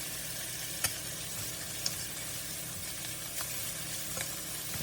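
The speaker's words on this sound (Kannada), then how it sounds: "ಹಾಗೆ ಇನ್ನೊಂಥರ ಕ್ಯಾಪ್ಸಿಕನು, ಹಾಗೆ ಕ್ಯಾರೆಟು ಹಾಕಿಬಿಟ್ಟು ಎಲ್ಲ ಫ್ರೈ" Capsicum and carrot fry in a pan as a low, even sizzle, fairly faint and steady, with an occasional soft clink of a utensil and no talking.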